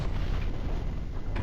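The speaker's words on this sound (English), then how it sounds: "If that's a Quake cannon, I think it needs to be louder" Quake cannon fired in Warhammer 40,000: Boltgun, a deep sustained low-end roar filling the whole short stretch at steady loudness, with no distinct sharp impact and no talk over it.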